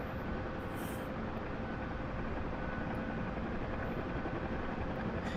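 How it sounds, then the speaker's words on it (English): A UH-1H Huey helicopter in the DCS combat simulator lands on a ship, its engine and rotor giving a loud, steady broadband roar with no letup. "So this is the first time I've landed in the Huey backwards on a ship."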